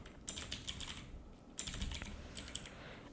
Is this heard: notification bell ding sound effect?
no